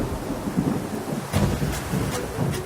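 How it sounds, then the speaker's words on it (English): Steady rain falls while low thunder rumbles roll through in several soft swells, filling the background with no talking. "As the rain sets in"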